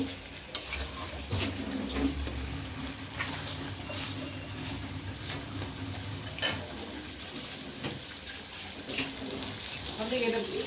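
Meat and spices frying in a pan are stirred in steady bursts with a soft sizzle and scraping, continuous and close, while someone talks over the cooking.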